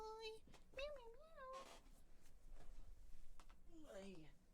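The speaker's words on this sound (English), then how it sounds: "meow, meow. Here's my cat." A pet cat meows a few times close by, with rising and falling cries in two bursts, and a person talks over and between them.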